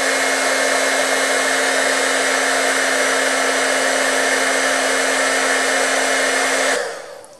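A heat embossing tool blows a loud, steady whir with a constant hum while melting black embossing powder for card-making, cutting off and fading near the end, no voices present.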